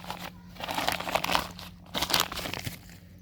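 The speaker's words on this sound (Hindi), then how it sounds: "इसको पॉलीथीन से बाहर निकालते हैं अब" Polythene bag around a potted allspice plant torn open and crinkled off: close, bursty crackling and rustling in two main waves with brief pauses, fairly quiet.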